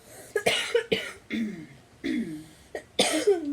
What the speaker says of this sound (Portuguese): A nossa cinegrafista aí tossindo